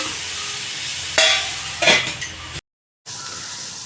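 Onions fry in oil in a pan, a soft continuous sizzle broken by a few louder bursts of stirring and scraping, then a brief moment of dead silence before the quiet frying resumes.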